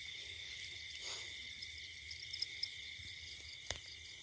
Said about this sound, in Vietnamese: phần này còn dế luôn các bạn ơi.